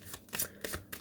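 A deck of tarot cards shuffled up close in about four quick, crisp riffling bursts within a second, fairly quiet, with no talking.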